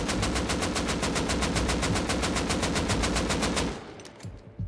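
AK rifle in the video game Rust fired in one long full-auto burst at a wall, rapid evenly spaced loud shots for several seconds, then a short quiet tail.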